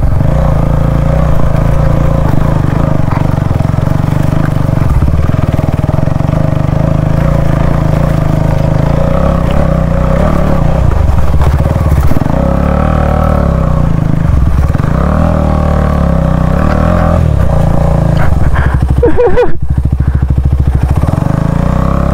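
A motorbike labours along a rough, slippery road, its engine droning loud and close throughout with a rattling clatter and several rising and falling revs midway; no voices are heard.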